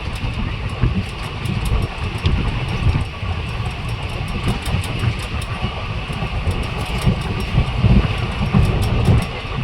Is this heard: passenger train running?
yes